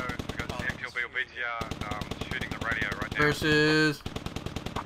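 Rapid machine-gun fire from an MT-LB or BTR armored vehicle in a military shooter game, a steady stream of close, loud bursts, with a voice speaking over the shooting.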